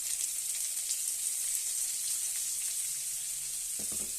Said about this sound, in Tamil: பல்லாரி வெட்டி நான் அதை வேக வச்சிட்ருக்கேன், வதக்கிட்டுருக்கேன் எண்ணெயில்.